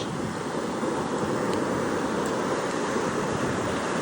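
Atlantic Ocean surf breaking on a shore lined with pines, a steady, loud wash of rushing water with some wind noise on the microphone, continuous with no voices.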